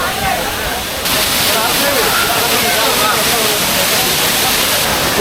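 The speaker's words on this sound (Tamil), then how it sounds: "ஃபால்ஸில் மறுபடியும் போய்ட்டு குளிக்கலாமா? ஏராளமான மக்கள் அங்கே குளிச்சுட்டு இருக்காங்க." Agasthiyar waterfall at Papanasam roars with a loud, constant rush of falling water while people bathe beneath it, with faint voices mixed into the noise.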